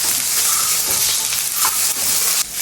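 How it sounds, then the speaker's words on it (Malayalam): Okra pieces fry in hot oil with a steady, loud crackling sizzle, stirred now and then, heard up close with no talking. "അപ്പോൾ ഇനി ആദ്യം നമുക്ക് നമ്മുടെ വെണ്ടയ്ക്ക വറുത്ത്, നമ്മുടെ വെണ്ടയ്ക്കാട്ടോ വറുക്കണത്."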